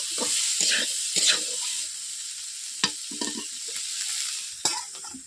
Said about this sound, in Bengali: ফুলকপিগুলোকে ভেজে নিচ্ছি যাতে সবুজ ভাব গন্ধটা না থাকে